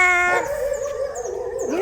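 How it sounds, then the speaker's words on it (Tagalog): A dog howls on an afternoon outdoor walk: one long, wavering howl that glides in pitch, fairly close, with no talking. "May aso."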